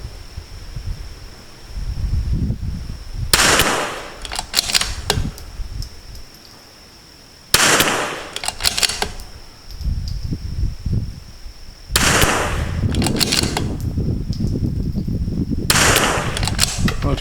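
Rifle shots at an outdoor shooting range crack out in four sharp, loud reports spaced several seconds apart, each followed by a brief ringing tail, with no talking.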